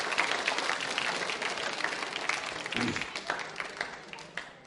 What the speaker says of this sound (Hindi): संकल्प के लिए तालियां जोरों से बजाइए आप